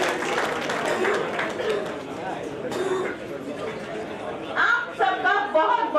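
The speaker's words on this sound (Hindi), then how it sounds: "आपका ऊर्जा से परिपूर्ण तालियों से आपका स्वागत है" Audience at a Lions Club Delhi Kiran event applauding to welcome a guest onto the stage, a steady spread of clapping mixed with crowd chatter, rising into brighter bursts near the end.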